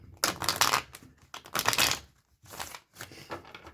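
Tarot cards being shuffled in several quick riffling bursts with short pauses between, close and crisp.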